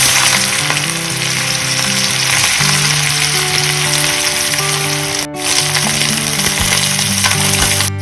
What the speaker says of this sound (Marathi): आता कांदो बरो खरपूस भाजून मागीर कातली घालून